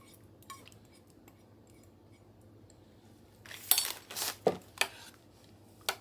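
Utensil scraping and clinking against a pot while beef stroganoff mixture is stirred, a cluster of sharp metallic knocks and scrapes in the second half after a quiet start, close and fairly loud.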